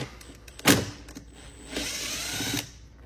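A 5 mm Allen socket on a power tool undoes the seat nuts of an EGO MB1000: a sharp mechanical rattle, then a steady whirring run of about a second, close and fairly quiet.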